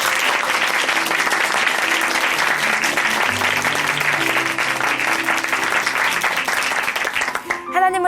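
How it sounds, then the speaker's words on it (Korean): A church congregation at Chuncheon Hanmaeum Church breaks into sustained, loud applause that fills the room and continues evenly throughout, under a speaking voice. "큰 박수 보내드리겠습니다."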